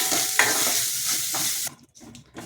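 Grated coconut stir-fried in a pan for a brinjal and cowpea porichakuzhambu, a dense steady sizzle with stirring that cuts off abruptly near the end, leaving quieter faint scraping.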